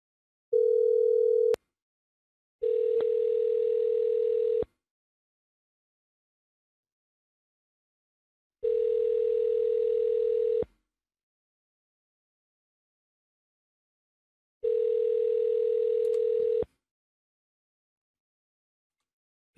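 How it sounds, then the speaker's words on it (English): An outgoing phone call's ringing tone repeats four times, each steady electronic tone lasting about two seconds, separated by long silent gaps, clear and alone. "Pick up the phone, pick up the phone."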